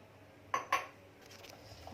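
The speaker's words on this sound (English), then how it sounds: "we are mixing well" Two sharp metallic clinks from a spoon against a bowl while mixing paneer fry ingredients with oil, close and distinct, followed by softer faint scraping in a quiet room.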